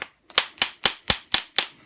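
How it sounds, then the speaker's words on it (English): Hammer blows strike a heavy seized Pratt Burnerd three-jaw chuck, six sharp metallic impacts in a steady, evenly spaced rhythm, close and loud, each ringing briefly before decaying, with no talking. "hammer hits"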